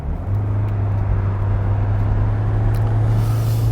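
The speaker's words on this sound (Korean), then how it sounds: "자, 그러면 이제 가볍게 이 렉스턴과 함께 달려볼까요?" A 2021 SsangYong Rexton SUV drives off with a steady, close engine drone and road hum that holds at a constant loud level throughout, with no voices.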